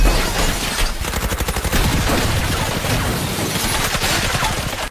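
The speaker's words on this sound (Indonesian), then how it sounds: "beberapa pembunuh menyergapnya dan menembaki toko dari luar." Gunfire from attackers shooting at a bookshop from outside during a film action scene, a loud sustained fusillade of rapid automatic bursts with booming impacts filling the whole stretch.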